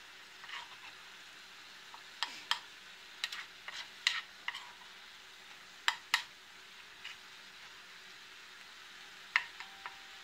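Eggs frying in a pan beside cauliflower rice, a steady soft sizzle with scattered sharp pops and occasional utensil taps, close and fairly quiet, no talking.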